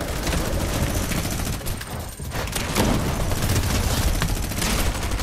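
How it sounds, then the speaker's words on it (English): A minigun in a Fortnite match fires in a dense, continuous roar of rapid shots, loud and sustained throughout, with heavy rattling gunfire filling the whole stretch. "Ovaj koristi minigun"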